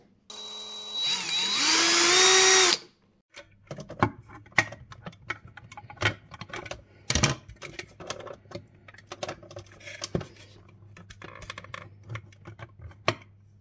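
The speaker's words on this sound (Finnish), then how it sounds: "tälle johdolle pitää porata tuonne reikään" Power drill boring a pilot hole for an electrical cable during a wall socket installation, one loud continuous whine for about two seconds that cuts off, followed by scattered clicks and handling knocks.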